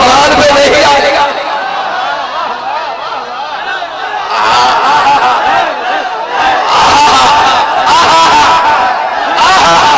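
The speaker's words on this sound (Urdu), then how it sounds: "تو پیچھے سے نعرے آ رہے ہیں" A crowd at a Muharram majlis, a Shia religious gathering held in a mosque and imambargah, chants slogans in loud repeated bursts of massed voices that swell and fade over a continuous background of speech.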